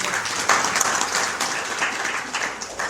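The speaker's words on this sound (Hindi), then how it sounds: "ताली बजाओ।" A small audience claps at a devotional satsang gathering in a private home, a short burst of lively, slightly uneven hand claps close by.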